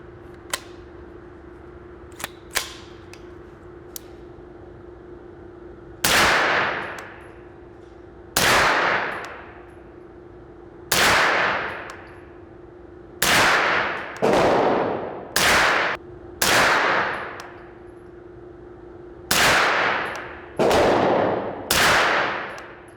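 A Grand Power Stribog SP9A1 Gen 2 fires 115 grain full metal jacket rounds at a range, about ten loud sharp shots with ringing decays, some spaced and some in quick pairs, after a few faint clicks.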